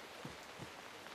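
Heavy rain hisses in the video game PUBG Mobile, a soft, steady wash of falling water with a few faint droplet taps, quiet and without voices.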